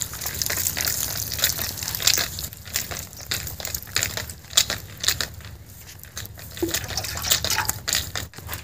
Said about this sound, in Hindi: सुमी मम्मी नुआ रही है पाडी ने